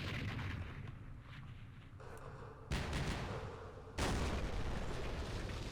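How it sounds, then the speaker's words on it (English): Mortar fire in the wargame Campaign Series Vietnam at the Battle of Dak To, with two sudden heavy blasts after a quieter stretch, each leaving a broad rumbling tail, fairly faint overall. "Oh, that's stupid mortars."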